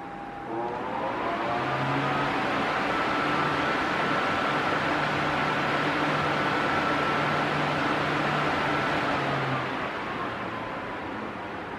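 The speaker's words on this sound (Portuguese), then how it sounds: "esse é o barulho dele. Barulho de ventilador" An Arno Silence Force electric fan runs steadily with a loud, even whooshing airflow and a faint motor hum, continuous and close for the whole stretch.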